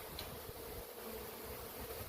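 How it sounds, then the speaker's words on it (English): A steady, dense buzzing of a swarm of bees, close and continuous, with no voices. "Look at the bees."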